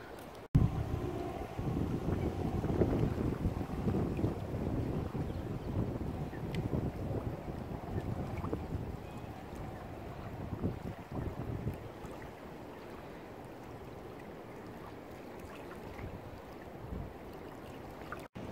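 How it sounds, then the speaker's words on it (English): Strong wind buffets the microphone in a steady, roaring rush that eases slightly toward the end, with no voices. "It is very windy and quite cold"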